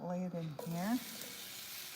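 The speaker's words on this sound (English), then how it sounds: "Starts to sizzle already." Shrimp hit a hot cast iron pan and start a steady, hissing sizzle that carries on after a person's brief spoken words.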